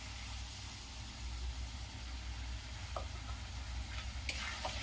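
A paste of tomato, garlic, green chili and ginger fries in oil over a high flame for egg curry, making a steady, close sizzle with faint stirring scrapes and no talking.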